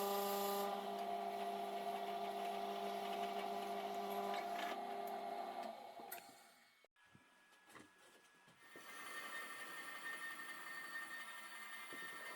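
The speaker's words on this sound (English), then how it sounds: "This is the base end that I'm drilling out." A power drill bores into the still-damp base end of a cherry log, a steady tonal whine with harmonics running for about six seconds, then stopping, followed by quieter scraping and handling noises and a softer resumed hum.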